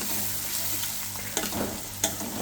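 Onion fries in oil in a home kitchen as a tomato meal-maker curry begins, with a soft continuous sizzle and a couple of brief scraping stirs.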